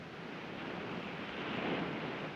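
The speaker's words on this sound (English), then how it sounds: "You like the sound of the ocean?" Distant ocean surf washes in a steady, soft broadband rush with a gentle swell toward the end, heard alone at low level.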